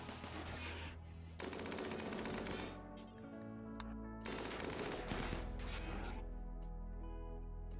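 Minigun gun turret in RimWorld firing in long sustained bursts of rapid automatic fire, loud and dense, with a brief lull between two main volleys and no talk.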